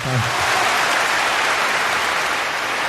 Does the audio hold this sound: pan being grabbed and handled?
no